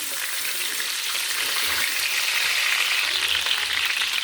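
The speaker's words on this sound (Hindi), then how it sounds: "चिकन मैंने बहुत अच्छी तरह से फ्राई कर लिया है" Chicken fries in a pan with a continuous bright sizzling hiss, close and steady throughout, slightly rising toward the end, with no talking.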